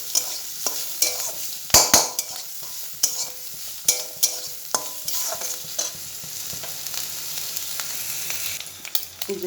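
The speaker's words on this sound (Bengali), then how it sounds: "দুটো ডিমকে একসাথে আমি ভালো করে ভেজে নিই" Two eggs sizzle together in a pan while a utensil scrapes and taps repeatedly, sharp clatters punctuating the continuous frying hiss; no talking.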